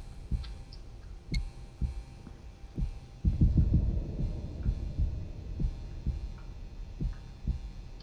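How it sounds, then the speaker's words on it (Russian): A heartbeat in the Get Even video game thuds in low, regular pulses over a faint electrical hum, growing briefly heavier and denser midway before settling back to a steady throb. "мое сердцебиение перебивает этот звук"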